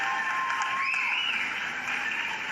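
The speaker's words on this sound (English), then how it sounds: "Let's give these two fighters a tremendous round of applause." Faint, steady applause from a boxing crowd rises for two fighters after the bout ends, a soft continuous patter of clapping heard from a distance.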